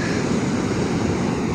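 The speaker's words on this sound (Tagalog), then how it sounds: "ang lalaki ng alon, sobra" Big ocean waves break at the shore in a continuous loud, broadband roar of surf, close and unbroken, with no voices.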